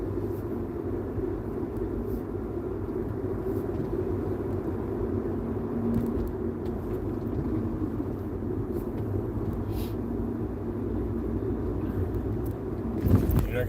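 A car drives along, a steady loud low road rumble and engine drone holding evenly throughout, with a brief bump of noise just before the end.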